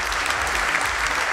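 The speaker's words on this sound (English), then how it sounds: "I give you a big round of applause to our guest of honor this evening, Shri Mukesh Ambani" Audience at a jewellery industry gala evening applauding the guest of honour, a dense, even burst of clapping that stays loud and steady from start to finish.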